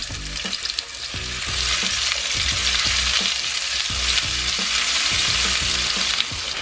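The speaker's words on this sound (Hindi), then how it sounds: "अब इसमें ऑनियन डाल देना है।" Chopped onion sizzles in hot oil with cumin seeds, cinnamon, cloves, green cardamom and bay leaf as the base for a pulao, a steady close frying hiss with stirring scrapes throughout and no talking.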